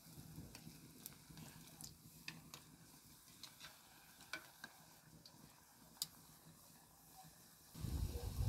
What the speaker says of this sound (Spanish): Aquí ya está caliente el aceite. Le voy a echar las gorditas.